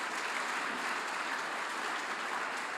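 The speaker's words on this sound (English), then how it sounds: "I think they deserve an applause." Steady applause for a city council during a State of the City address in Hamilton, a dense, even wash of many hands clapping, moderately distant and sustained throughout.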